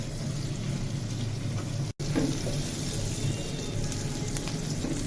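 Onions frying in pure ghee over high heat, a steady close sizzle and crackle holding throughout, with one brief dropout partway through.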